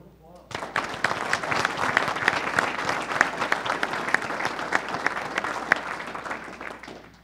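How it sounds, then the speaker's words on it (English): A community health council meeting audience applauds in a sustained round of crisp, overlapping claps. The clapping starts suddenly, holds steady and fairly loud for several seconds, and tails off at the end. "Another round of applause."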